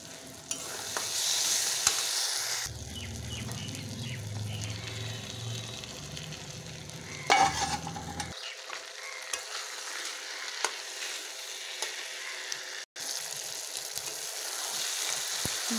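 Goat tripe and garlic being stirred and fried in a pan, a continuous sizzle with scraping and clattering of the spatula, close, with a brief pause partway through.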